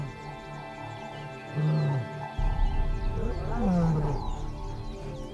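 Lions roar in the wild: a distant, low roaring grunt sounds twice amid a steady rumble and background hum, faint and muffled rather than close.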